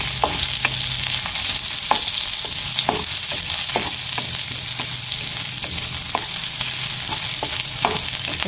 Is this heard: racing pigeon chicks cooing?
no